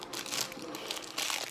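A large plastic bag crinkles and rustles steadily and close as it is pulled open, with bursts of louder crackling and no talk.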